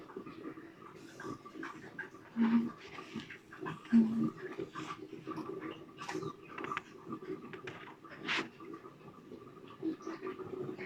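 A dog makes quiet, intermittent noises close by, soft and low, with a few brief louder bumps in an otherwise calm room.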